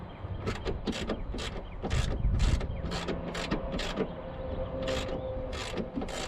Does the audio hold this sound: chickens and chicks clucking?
no